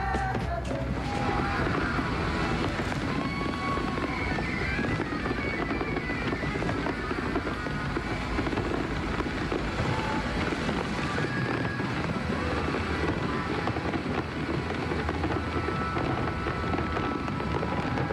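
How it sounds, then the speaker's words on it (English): A huge fireworks display over the Sydney Harbour Bridge on Millennium Eve makes a dense, continuous crackling roar, steady and loud throughout with no clear individual bangs, like a heavy downpour. "1 kilometre wide shower of fireworks"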